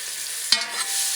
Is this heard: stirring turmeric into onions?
yes